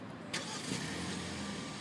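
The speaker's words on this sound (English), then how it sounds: "Notice a nice little growl there. Nice little exhaust." 2015 Hyundai Sonata 2.0T with quad exhaust starting by push button: a brief crank burst, then a low, steady idle rumble, faint throughout.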